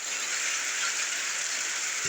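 Heavy, continuous rain falls steadily in Lakshmipur, Bangladesh, a dense even hiss with no breaks that holds a constant loudness and stands alone, with no voices.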